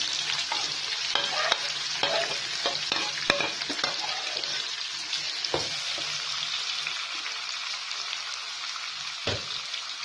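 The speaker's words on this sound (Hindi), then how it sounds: "अब इस तेल में हम ये प्याज डाल देंगे।" Onions sizzle and crackle in hot oil in a pan, with steady frying hiss and several sharp stirring scrapes and taps throughout, close and moderately loud.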